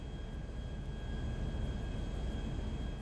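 Airplane engine in GTA V on a landing approach with gear down, a steady broadband roar with a constant whine, holding even and loud throughout with no talk.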